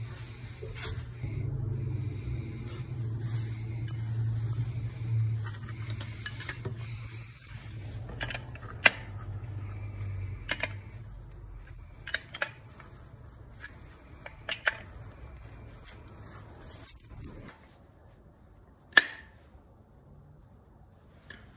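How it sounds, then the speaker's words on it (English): Metal wrench clicks and clinks as a 7/8 inch wrench snugs threaded fittings on an IAG air-oil separator in a 2015+ Subaru STI, a few sharp isolated ticks over low background hum, fairly quiet and close. "we're gonna go ahead and use a 7/8 inch wrench to secure these pretty tightly"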